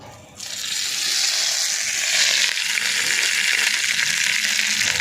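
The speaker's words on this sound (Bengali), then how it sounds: "এটা ফোড়ন দিয়ে দেওয়া হচ্ছে হাঁড়ির মধ্যে" Cumin tempering hits hot oil in a cooking pot with a sudden onset, then a loud, steady, close sizzle that carries on without a break and with no talk.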